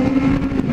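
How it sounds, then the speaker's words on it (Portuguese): Kawasaki Z750 motorcycles run on the Estrada do Vinho road near São Roque. A close, steady engine drone holds an even pitch through a brief moment, with no voices. "Tem um monte de Z750 aí, moto que é tudo mil cilindrados"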